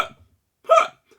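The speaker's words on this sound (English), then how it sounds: "Maybe you know that if you have hiccups," A single sharp hiccup, short and fairly loud, stands alone after a brief soft breathy sound, with near silence around it.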